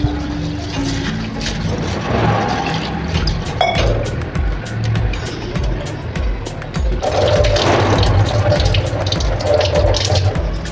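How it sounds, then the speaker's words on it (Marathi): Ration rice rubbed and washed by hand in a vessel of water, close and continuous sloshing, swishing and splashing with irregular bursts of grain and water movement. "हाताने चोळूनच हे तांदूळ धुवून घ्यायचे आपल्याला"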